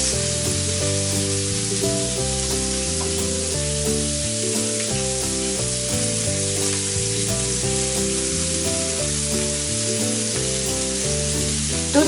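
Salmon marinated in olive oil and lemon juice sizzles on a covered grill at 375 degrees, a steady hiss running under louder background music.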